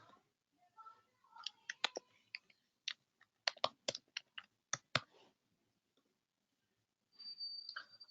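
Mouse clicks and keyboard taps on a computer, sharp and close, coming in irregular bursts over several seconds, followed by a short patch of softer noise near the end.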